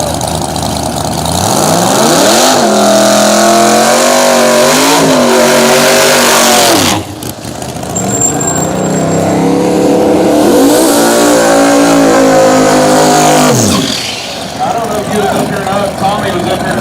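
Drag racing cars at KD Dragway roar loudly through two long accelerating runs with rising engine pitch and gear changes, while an announcer talks over the engines.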